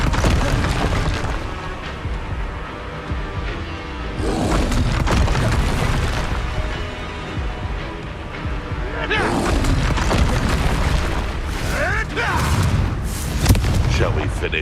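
Repeated booming spell explosions from the Confringo curse in the video game Hogwarts Legacy, loud and close, with bursts of impact and crackling debris in several waves, over dense game combat noise and occasional talk.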